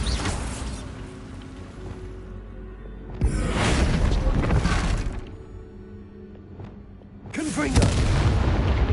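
Bombarda blasting spells go off in Hogwarts Legacy, two loud booming explosions with crackling, shattering debris, each rumbling for a couple of seconds over continuous low game ambience.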